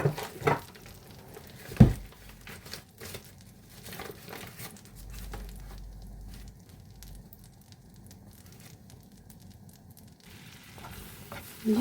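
Two spoons of flour (maida) frying in melted butter in a pan, a soft sizzle with scattered stirring clicks and scrapes, fairly quiet and close, no talk.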